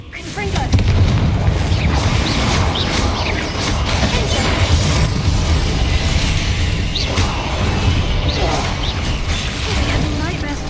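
A fiery spell blast erupts in the Hogwarts Legacy video game during a final battle, a loud sustained booming rumble with crashing and mechanical clatter throughout, game voices mixed in.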